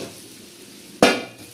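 Boiled potato dropped into a pan of browned onion, turmeric and oil lands with one sharp, loud clatter and a short burst of sizzle after a quiet, faint hiss.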